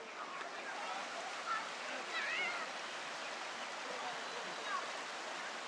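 A river stream flows near a bridge, a faint, steady broadband rush of water with a few brief high chirps over it.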